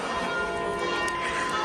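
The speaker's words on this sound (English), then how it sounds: "there go the lovely bells tolling" Church bells toll over a small Tuscan spa town square, a continuous ringing wash heard from outdoors, sustained and moderately loud against light ambient noise.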